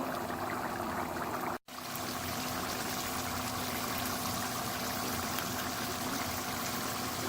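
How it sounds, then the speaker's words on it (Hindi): Steady watery bubbling and hissing from a pot of chana dal simmering on the stove as the water cooks off, continuous and close, with one brief dropout partway through. "बबल्स बनना शुरू हो गए हैं, पानी खुश्क होने वाला है"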